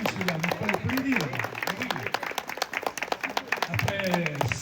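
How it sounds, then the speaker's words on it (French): A crowd at the Vittel hippodrome applauds the winners of a cross-country horse race, with steady, dense clapping throughout while someone speaks over it. "Bravo, on peut vous applaudir messieurs"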